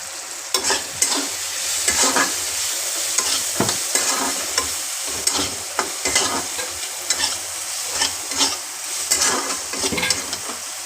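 Bitter gourd fries in hot oil with turmeric, sizzling steadily while a utensil stirs and scrapes the pan in repeated strokes, close and clear with no talking.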